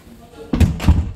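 A soundproof door in a home theater swings shut with two heavy, dull thuds in quick succession, close by.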